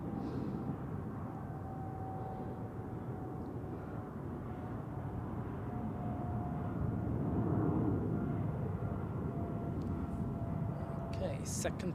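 A Turkish Airlines jet on final approach at Zurich Airport, heard as a steady, distant broadband engine rumble with a faint whine that holds level throughout, faintly swelling midway.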